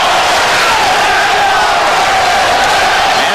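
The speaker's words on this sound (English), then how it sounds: "And the crowd at ringside chanting, Zeljko, Zeljko." A dense, loud crowd roars at ringside during a Lennox Lewis versus Zeljko Mavrovic heavyweight boxing match, a continuous wall of chanting and shouting with no clear individual voice.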